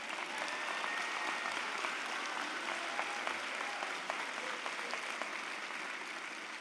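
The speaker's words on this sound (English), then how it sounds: "Let's give them a round of applause." A crowd at a high school graduation ceremony applauds steadily, a continuous wash of many hands with individual claps popping out, heard at a moderate distance and fairly quiet overall.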